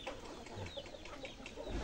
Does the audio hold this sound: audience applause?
no